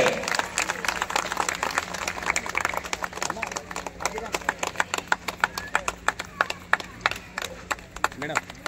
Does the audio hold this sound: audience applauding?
yes